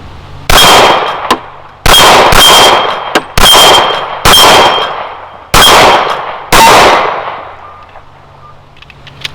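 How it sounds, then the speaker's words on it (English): Six loud sharp shots from a Kimber Compact aluminum stainless .45 pistol firing Freedom ammunition at an outdoor range, each crack followed by a ringing tail and spaced about a second apart. "Kimber compact aluminum stainless, 12 yards, shooting Freedom ammunition."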